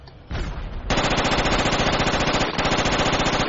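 Rapid automatic gunfire in the military shooter game Project Reality, loud and close, starting with a short burst and then running as a sustained stream of rounds with a brief break near the end.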